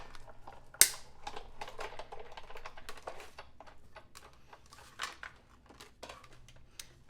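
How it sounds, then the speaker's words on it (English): Die-cut machine pressing cardstock pieces for a handmade thank-you card: a quiet, steady run of small clicks and creaks opening with one sharp snap, with no talking. "I'll run that through the die cut machine"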